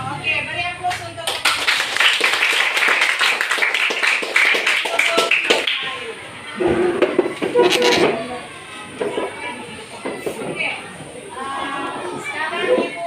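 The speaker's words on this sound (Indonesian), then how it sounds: "beri aplaus untuk" Students in an Indonesian classroom clap in a dense burst of applause lasting several seconds, then a second shorter round, with a teacher's voice speaking afterward.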